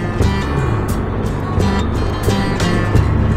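A Honda CB750 motorcycle engine drones steadily while riding on a country trip near Rocamadour, a continuous low rumble with wind roar and no talk.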